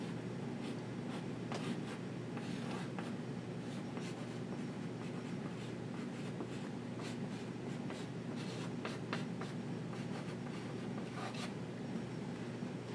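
Handwriting on paper while working through a math problem on scaling a sine graph: a steady scratchy scribble of pen strokes with small taps, continuous and close over a constant background hiss.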